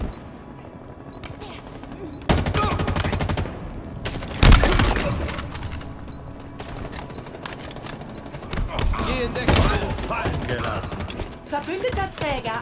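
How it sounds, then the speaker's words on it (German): Gunfire in Halo Infinite multiplayer Oddball, loud bursts of automatic fire and heavy impacts arriving in several clusters, mixed with weapon mechanism clicks and a game announcer voice. "Unter Beschuss."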